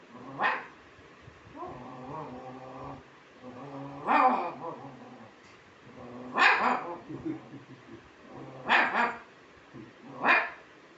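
A man imitates a dog, giving several separate bark-like yelps and a growly whine between them, close and fairly loud.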